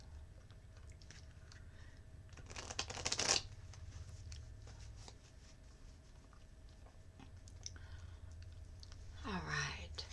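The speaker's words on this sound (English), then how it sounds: "shuffling the cards again." A deck of tarot cards being shuffled during a live love reading, a quiet riffle burst followed by soft clicks and handling sounds, with someone speaking softly around it.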